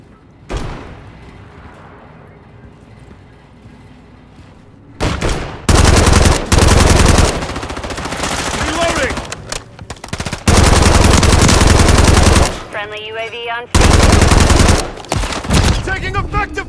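Bursts of automatic gunfire in Call of Duty: Modern Warfare III on PlayStation 5, loud, close rapid fire in several long volleys separated by brief pauses, with game voice callouts in between.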